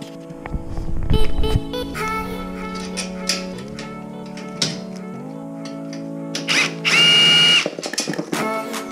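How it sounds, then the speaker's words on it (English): A power drill drives screws while a Peace Moto 125cc pit bike is being assembled, with several short whirring bursts of varying pitch separated by pauses and handling clatter, loud and close. "So these, just get some screws, screw it down"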